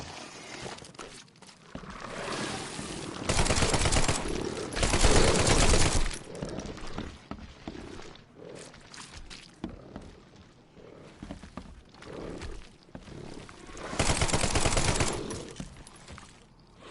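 Submachine gun fire in The Sinking City, with loud, sustained bursts of rapid shots separated by quieter stretches of footsteps and clatter.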